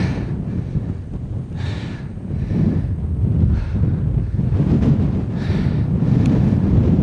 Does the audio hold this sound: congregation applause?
no